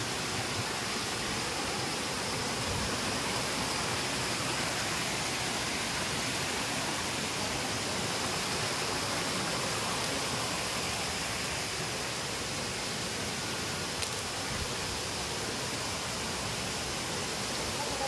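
Steady, dense roar of a waterfall during an outdoor exploration in Zamboanga del Sur, a constant broadband rush holding level throughout without pauses.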